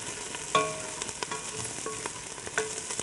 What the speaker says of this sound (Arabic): خلوا بالكم إنه البصل حيستمر في التحمير، فما بدي ينحرق أثناء ما أنا بشوح فيه الدجاج